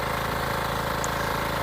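A 9 hp Kishankraft electric-start cultivator engine running, a loud, steady mechanical drone with an even pulsing throb and no talk over it.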